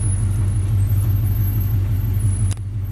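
Continuous low rumble of a vehicle engine driving away down a hill after delivering a tiny house, steady and fairly close with a brief thump near the end.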